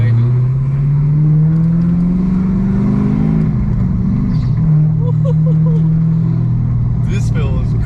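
Manual Dodge Hellcat Charger engine while driving, a loud, steady low-pitched drone heard from inside the car with the pitch wavering slightly through the run, and people talking over it.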